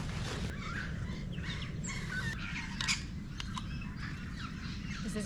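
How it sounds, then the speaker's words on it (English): Rainbow lorikeets call outdoors in a busy, overlapping flock of harsh squawks and chirps, moderately near, over a constant low background wash. "Look at the rainbow lorikeets."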